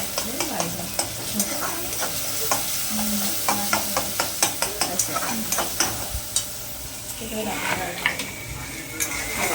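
Tomatoes sizzle in a pan as a spoon stirs them, with repeated scraping clinks against the metal over a steady frying hiss, close up, and someone talking now and then.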